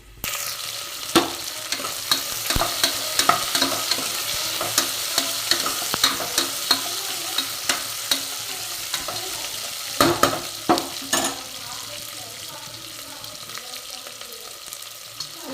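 Chopped onions added to hot oil already holding fried urad dal and peanuts for pulao give a steady, close sizzle, with repeated sharp scrapes and clicks of stirring spread across the whole stretch.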